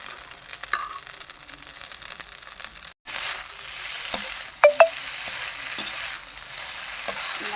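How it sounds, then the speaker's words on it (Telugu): Manchurian balls frying in a pan, with a soft continuous sizzle under scraping stirring strokes and a few sharp clinks of the spoon against the pan partway through. "ఇలా బాగా ఫ్రై చేసుకోవాలండి"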